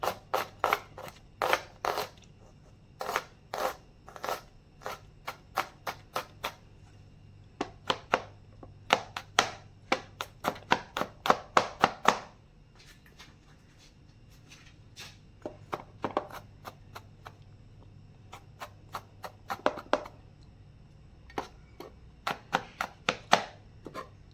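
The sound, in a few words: roughly chopping garlic cloves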